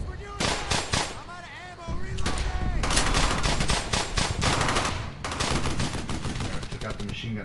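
Machine gun fire in the Brothers in Arms World War II game, loud rapid bursts and scattered rifle shots with battlefield clamor and voices shouting throughout.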